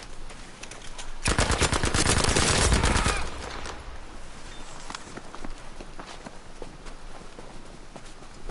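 Rapid bursts of automatic gunfire rattle in a dense volley lasting a couple of seconds, followed by quieter scattered cracks and footsteps.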